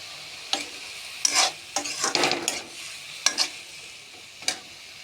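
Pumpkin stems and bori are stirred in a sizzling pan with Kashmiri chilli, giving a steady frying hiss broken by several sharp scraping stirs of the spoon against the pan, close and clear.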